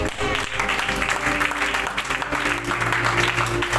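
A church congregation claps steadily at a sermon in a French-speaking service, with music playing beneath the sustained applause.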